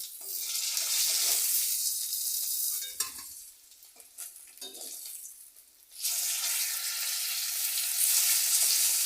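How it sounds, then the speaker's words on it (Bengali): Rohu fish frying in oil in a wok gives a loud, steady sizzling hiss that dips and grows quieter mid-clip, then swells back to full strength. "আর কড়াইতে একটু তেল দিয়ে দিচ্ছি"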